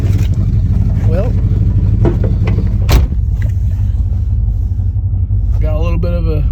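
Chevrolet Monte Carlo SS V8 with a loose exhaust idling close by, a loud low rumbling burble running throughout, with a few sharp knocks and a voice speaking briefly near the end.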